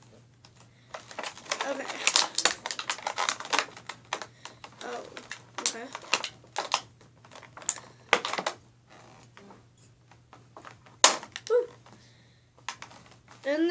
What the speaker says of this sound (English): you're gonna need scissors to be able to get the sunglasses out.